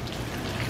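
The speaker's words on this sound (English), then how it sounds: "Today it is raining outside," Steady rain falling outside a back window, a dense, even patter of drops filling the whole brief moment with no voices.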